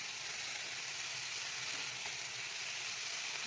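Chopped onion frying in a pan for a pulao, a steady bright sizzle held at an even level throughout with no talk over it.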